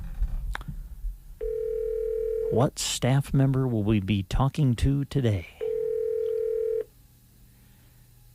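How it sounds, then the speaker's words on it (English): A steady telephone intercom dial tone holds for a few seconds, then a burst of dialing tones and talk, and the steady tone returns before fading to quiet room noise; a voice speaks over the middle. "Oh, sounds like the intercom."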